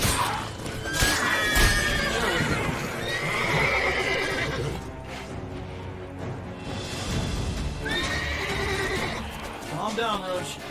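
In The Witcher 3: Blood and Wine, Geralt's horse Roach neighs and whinnies several times over clip-clopping hooves, with a voice talking alongside.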